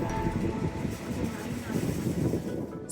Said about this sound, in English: The train took us along the snow-clad mountains.